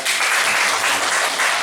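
An audience claps at a 2019 village council (BPD) member election event in Maluk. The applause is dense and steady, close and loud throughout, with no pauses.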